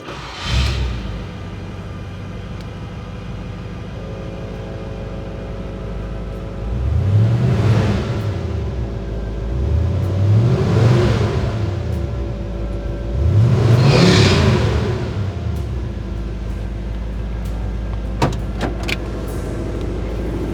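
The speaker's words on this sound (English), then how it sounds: "Beautiful 1947 Ford Deluxe. Engine is running really smooth." A 1947 Ford Deluxe with a 351 Cleveland V8 idling steadily, then revved three times in quick swells that rise and fall, loud and close, settling back to a smooth idle with a few light clicks near the end.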